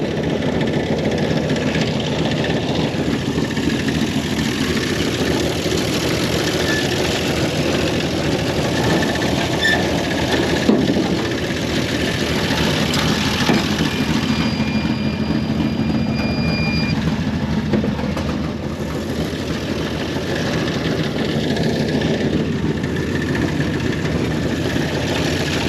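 The engine of a 1930 International fire truck idles steadily as it turns a shaft-driven generator, a loud, even, low rumble that holds its pitch, with a faint whine partway through.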